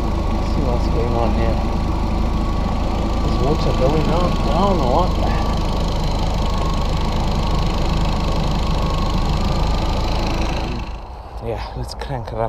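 A car engine running and idling steadily after being restarted following repair work, loud and close with a constant rumble that drops away near the end, with a person speaking over it.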